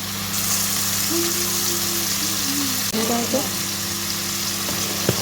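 Mixed vegetables for Bengali shukto sizzle steadily in hot oil with tempering spices. A utensil clatters briefly midway and gives a sharp tap near the end.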